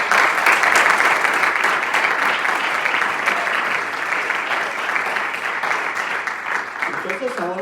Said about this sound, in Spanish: Des un aplauso, hermano.